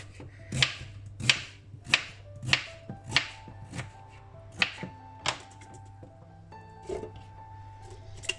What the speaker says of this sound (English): And now I'll roughly chop the carrots.